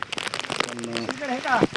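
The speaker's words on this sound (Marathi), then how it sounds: "पण फारच पाऊस आला आहे मुसळधार" Heavy monsoon rain pours at Ghangad fort, a dense patter of drops with crackling hits, while a person's voice hums and speaks close by over it.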